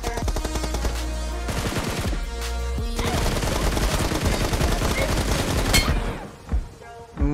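Rapid automatic gunfire in a BGMI team deathmatch, dense bursts of shots ringing out back to back for several seconds, loud and close, tapering off briefly near the end before another burst.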